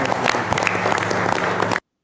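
A roomful of people clapping, dense steady applause at fairly close range that stops abruptly into silence.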